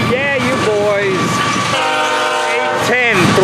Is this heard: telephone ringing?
no